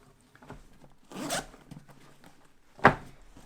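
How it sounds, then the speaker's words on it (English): A backpack zipper is pulled open in a couple of quick rasping strokes, with a sharper zip near the end, close and fairly quiet. "One right here, another zipper right there."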